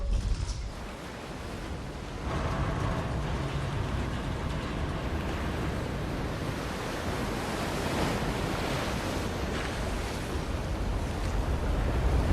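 Rushing water floods a lake and drowns a village in a 2005 Jade Empire video game cutscene, a loud, steady wash of surging water and wind-like roar that swells after a brief dip and holds with no voices.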